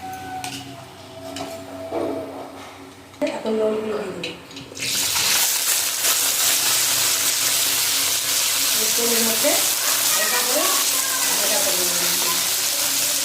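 Dry mustard seeds dropping into hot mustard oil in a kadai (wok): a few quieter seconds with faint voices, then a sudden loud, steady sizzle and crackle that carries on to the end.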